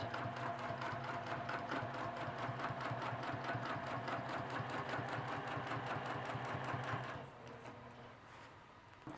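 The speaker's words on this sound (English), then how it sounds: "we're going to grab our straight ruler and we're going to stitch across." A sewing machine stitches a straight row across a quilt along a ruler, running at a steady rapid rhythm for about seven seconds before stopping, leaving quieter ambient sound.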